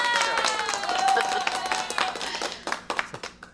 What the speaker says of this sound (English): I could have used that one, but I think applause was more relevant.